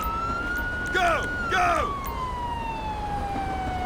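A police siren on a Camaro ZL1 patrol car in the LSPDFR game wails, holding a steady tone with two brief whooping sweeps, steady and close, over a low background rumble.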